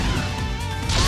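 In the Digimon World Next Order video game, the Infinity Cannon attack lands as a dense, loud crashing impact with bright ringing overtones, sustained for about a second and swelling again at the end.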